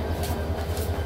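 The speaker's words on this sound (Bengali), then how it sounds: "ঢাকা টু সিলেট আন্তনগর ট্রেনগুলো এখন সিলেটের উদ্দেশ্যে রওনা হবে" Dhaka to Sylhet intercity train at Shaistaganj railway station in Habiganj, heard from a bridge above the tracks: a steady loud rumble of rolling rail cars with low droning and faint rhythmic clatter throughout.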